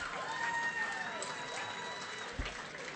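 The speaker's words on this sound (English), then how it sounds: "Give her a round of applause as she makes her way to the stage" A crowd at the Phelan Mostyn Medal awards night applauds a winner heading to the stage, a soft, steady wash of clapping beneath sustained music tones.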